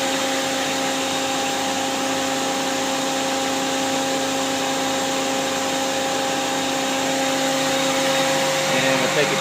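Mazak QT-20 CNC lathe spindle running at 3,000 RPM, a steady loud whirring machine hum with constant tonal drone throughout, a voice briefly heard over it.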